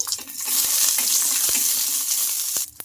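Green chillies and garlic cloves fry in hot oil with a steady, loud broadband sizzle, broken by a few sharp spatters and stirring knocks, then easing off near the end.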